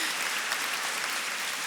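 An audience at an awards gala claps in a dense, even wash of applause, loud and unbroken through the short span.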